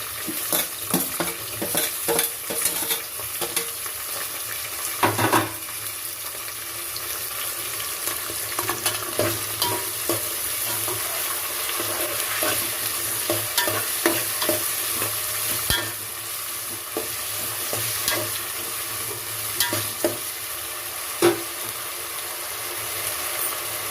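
Tomato and potato cooking in a pan for kichidi sizzle steadily for a long stretch, broken by frequent close scraping and clattering stirs of a spoon against the pan.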